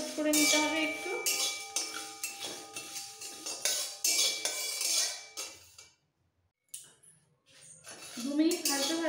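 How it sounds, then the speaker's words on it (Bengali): Whole cumin and coriander seeds dry-roasting in a pan: a spatula scrapes and clinks against the metal steadily for several seconds, then falls nearly silent before resuming, with a voice talking over it. "এবার খুব ভালো করে ড্রাই রোস্ট করে নিতে হবে একটু।"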